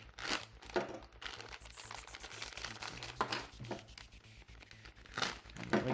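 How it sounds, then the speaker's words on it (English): A plastic bag of Beyblade parts is cut open and pulled apart, making close, loud bursts of crinkling and tearing plastic that come in uneven waves. "So we'll just get this bag and we'll cut that open there. Pull this out."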